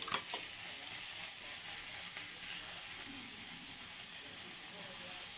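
Garlic fries in a pan, a soft, even hiss of sizzling oil with a couple of brief clinks at the start, fairly quiet and continuous with no talking.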